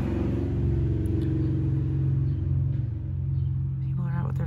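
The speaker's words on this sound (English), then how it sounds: "apologize for the loud vehicles going by" Loud cars passing on a street at night, a deep continuous engine rumble that swells and fades as they pass, fairly close, with a voice faintly audible near the end.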